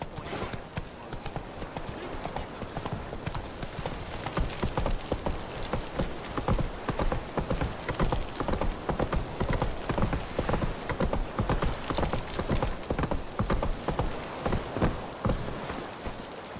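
Horse hooves gallop in the video game The Witcher 3, a fast, even rhythm of close clip-clop beats that begins after a quieter moment and carries on steadily.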